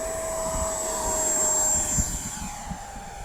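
An FMS Futura V3 RC model jet flies overhead with a steady, whining turbine-like drone and a high thin tone, fairly distant and continuous, without voices.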